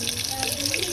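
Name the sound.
water poured into a cooking pan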